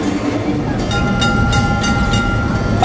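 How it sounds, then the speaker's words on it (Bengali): A heritage Kolkata tram turning into the Shyambazar tram depot, with steady rumbling wheels and rattling car noise close by, plus faint squeal tones and clanks over the constant loud roll. "আমাদের ট্রাম বাঁক নিল শ্যামবাজার ট্রাম ডিপোর মধ্যে।"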